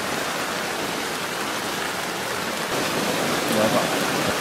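River water on the Amazon washes and surges against a raft at night, a loud, continuous rushing wash that swells slightly toward the end, with faint voices in the background.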